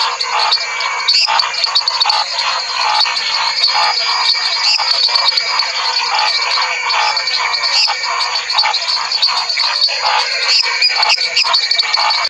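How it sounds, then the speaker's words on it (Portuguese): A yellow tree frog, Dendropsophos minutus, calls continuously from a marsh in Brazil, its dense, high, rasping trill layered with many overlapping calls for the whole stretch, loud and steady with no talk. "E essa perereca amarela, o Dendropsophos minutus, também tem um canto que é muito comum"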